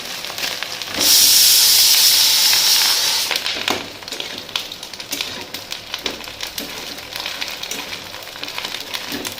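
Maggi noodles dropped into a hot pan with red-fried spices burst into a loud, close hiss that fades after a few seconds into lighter, crackling sizzle, with no talk.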